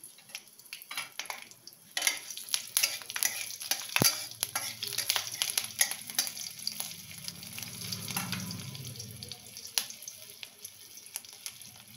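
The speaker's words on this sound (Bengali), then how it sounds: "এর মধ্যে একটু কালো জিরে ফোড়ন দেবো, আর 2টো কাঁচা লঙ্কা দিলাম।" Black cumin and two green chillies sizzle in a small amount of hot mustard oil in a pan, a steady close crackling hiss with a sharp pop and occasional stirring clinks.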